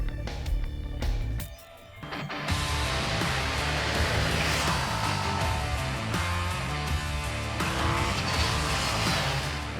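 A 2021 KTM 890 Duke R motorcycle rides on the road, a brief lull giving way to a loud, sustained engine roar with wind rush that holds steady and close throughout.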